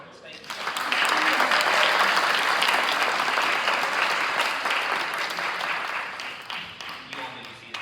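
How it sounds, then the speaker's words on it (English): Applause for award winners at a governing board meeting, clapping from a room audience that swells within the first second, holds strong for several seconds, then gradually thins out. "one last round of applause for our winners"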